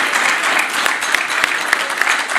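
A sustained round of applause fills a parliamentary chamber, dense and fairly loud, with a few sharper individual claps standing out near the front.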